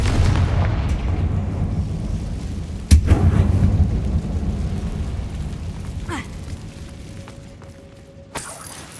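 Confringo fire spell explosion in a video game, a single loud blast that hits suddenly and rumbles away slowly, with a sharper crack near the end over a low background din.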